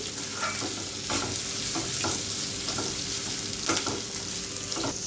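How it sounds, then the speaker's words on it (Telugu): Moong dal frying in a pan with fenugreek leaves, a soft continuous sizzle with repeated spatula scrapes and stirs in an uneven rhythm, heard close with no talking. "ఇందులోకి పెసరపప్పు అండి, ఇది కూడా వేసేసుకొని ఒక 2 నిమిషాల పాటు వేయించుకోవాలి"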